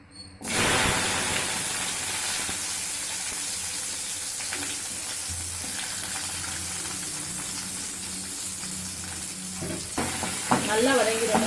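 Steady loud sizzling of onions frying in hot oil after mustard seeds, continuous throughout, with occasional stirring scrapes and a brief clatter near the end.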